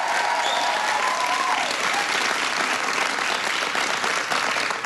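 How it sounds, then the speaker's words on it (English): A large crowd at a health care speech in Boston applauds Governor Deval Patrick, dense continuous clapping that stays loud and even throughout, with a faint voice briefly audible beneath it. "Give him a big round of applause"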